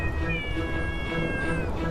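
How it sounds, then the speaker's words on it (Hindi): A kitten cries with a continuous, wavering, wailing meow, loud and close throughout, in an animated Hindi story. "मैं तुरंत सो गया और तभी बिल्ली के बच्चे के रोने की आवाज से मेरी नींद खुल गई थी।"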